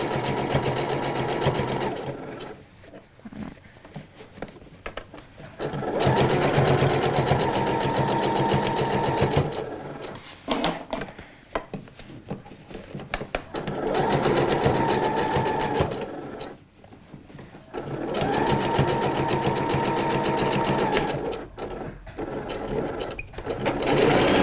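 A sewing machine stitches along the gathers of a trouser hem and ankle band, running in four long, steady bursts of several seconds each, separated by short pauses.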